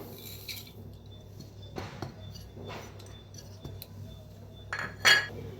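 Gram flour, sesame and grated dry coconut mixed in a bowl, with a few soft spoon scrapes and light clinks against the bowl, ending in a sharper metallic clink.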